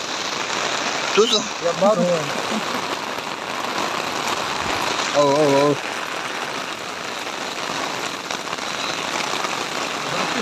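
Heavy rain pours down in Dubai, a constant broadband hiss of drops on surfaces heard outdoors at moderate level, with a few brief voices speaking over it near the start and middle.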